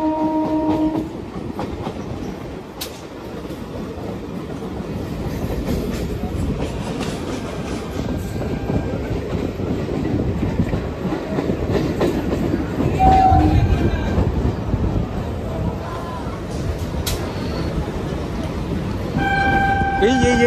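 A train passes along a level crossing beside Jessore Road, rumbling and clattering steadily with a horn sounding near the start and end, while someone talks over it.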